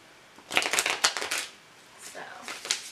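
Tarot cards shuffled by hand in a few quick riffling bursts, close and fairly loud, then a softer brief shuffle after a pause; no talk over it.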